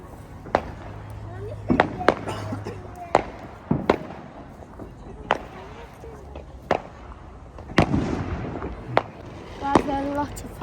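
Bonfire night fireworks burst one after another, sharp loud bangs and crackles spaced irregularly every second or so, ringing against a noisy outdoor background with people talking and exclaiming throughout.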